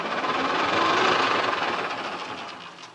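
An electric motor fitted to a Dnepr motorcycle whirs and rises in pitch as it spins up under light throttle, a smooth mid-range hum that swells and then eases slightly, with no voices.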